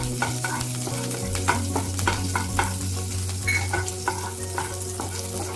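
Chopped green chillies sizzle and fry steadily in hot oil with black cumin, a continuous close crackle broken by soft scraping stirs, no talking over it.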